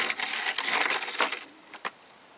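Several reloaded .223 brass cartridge cases, already lubed, clink and rattle as they are dropped into a bin, a dense metallic jingle that thins out into a couple of separate clinks.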